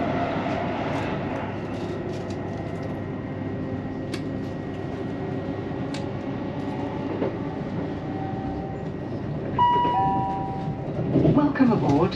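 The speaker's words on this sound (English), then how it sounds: "There's a LNER." LNER train on the East Coast Main Line near Welwyn Garden City, a steady rumble and hum of passing rail traffic heard from a station, with voices over it and a short tonal chime near the end.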